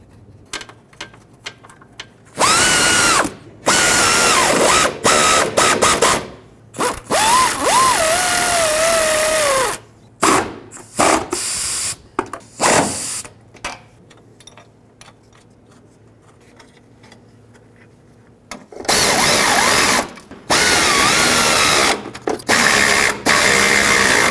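A ratchet tightens radiator mounting bolts on a 2008-2010 Ford F-250, loud rapid clicking bursts separated by pauses, close up and without talk.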